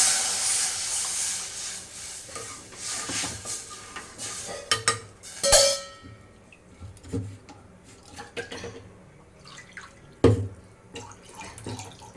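Tamarind water for rasam streams into a cooking pot with a splashing pour at the start, followed by scattered clinks and knocks of a utensil against the pot, fairly close and with no talking.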